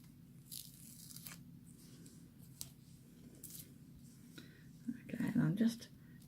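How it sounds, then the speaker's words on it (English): Masking tape peels away from card during card-making, with soft rasping tears and a louder pull near the end, heard under quiet speech. "I usually start peeling the tape from the side that's on the foil and peel it towards the card."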